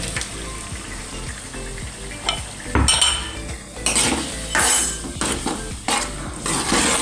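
Tomatoes cooking for Dhaba-style sev tameta nu shaak while garlic chutney goes into the pan, with spoon and utensil clatter over steady sizzling and stirring, close and moderately loud, with no talking.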